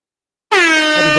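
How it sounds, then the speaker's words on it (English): A loud air horn blast cuts in suddenly after a half-second of silence and holds as one sustained, brassy tone, played as a sound effect on a sports talk show. "air horns"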